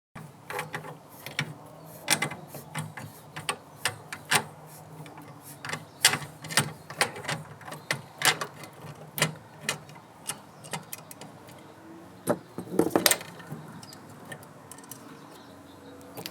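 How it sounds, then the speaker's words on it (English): A hand-powered nut driver clicks and ratchets while removing nuts, a close series of irregular sharp mechanical ticks and bursts spread over sixteen seconds with quiet gaps between. "this is a hand power nut driver"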